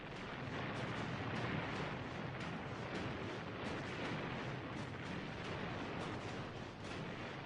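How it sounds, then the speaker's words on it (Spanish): A dense Korean War artillery salvo, a continuous roar of overlapping booms and crackling blasts at steady loudness throughout, with no voices over it. "Una explosión gigantesca."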